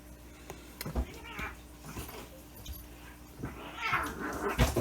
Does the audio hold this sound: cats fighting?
yes